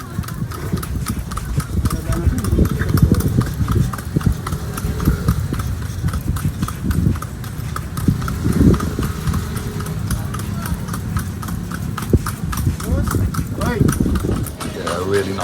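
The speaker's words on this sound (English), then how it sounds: "cruising along on horseback here in old Manila." Horse hooves clip-clopping on the streets of old Manila during a horseback ride, a steady rhythmic clatter under continuous talking throughout.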